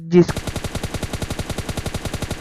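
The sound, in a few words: gunfire in video game PUBG Lite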